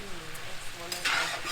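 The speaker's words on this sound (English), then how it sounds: "We're gonna get this all stirred up now, okay?" Chicken stir-fry tossed in a pan on very high heat, a quiet hum that gives way to a sudden loud burst of sizzling as the food is stirred, with faint talk near the start.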